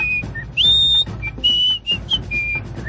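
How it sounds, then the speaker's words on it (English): A person whistles a short tune of clear, sustained notes with brief breaks between phrases, close and loud. "Here I am, still whistling."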